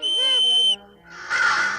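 Magic whistle blown in a Smurfs cartoon: a bright, clear whistle tone with warbling harmonics lasting under a second, then a brief breathy burst.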